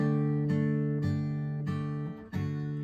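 Sustained electric guitar chords shift in even half-step movements about every half second, each change marked by a fresh strum, ringing and close.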